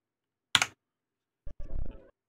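Keys on a DaVinci Resolve Speed Editor keyboard, with light switches similar to Cherry MX Reds, give one sharp click, then a short pause before a quick cluster of softer presses, up close and alone.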